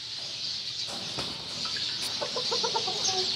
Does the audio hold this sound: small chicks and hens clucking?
yes